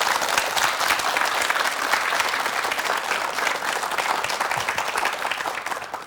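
A studio audience on a KBS morning talk show applauds in warm, continuous clapping that stays full and fairly loud throughout, with no clear talk over it.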